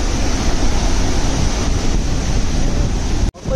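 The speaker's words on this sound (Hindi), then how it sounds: "ये बारिश नहीं है फॉल्स का पानी है" Roaring water of Athirappilly waterfall in Kerala, a loud, steady broadband rush close by that runs unbroken for several seconds before a brief sharp dropout near the end.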